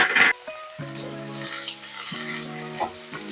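Chopped onions and tomatoes sautéing in hot oil in a kadai over full flame for chicken kuzhambu, a steady close sizzle with a few scraping stir strokes against the pan.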